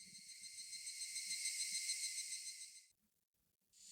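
Cicadas in the Higurashi When They Cry video game drone as a steady, high, shimmering buzz for about three seconds. The chorus then cuts out abruptly and resumes faintly. Soft low tones sit underneath, and no one speaks.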